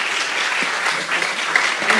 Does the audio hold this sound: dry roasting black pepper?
no